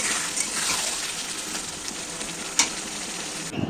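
Mutton masala stir-fried in a pan: steady close sizzling hiss with scraping and stirring strokes throughout, a brief sharp clatter near the end, no talk.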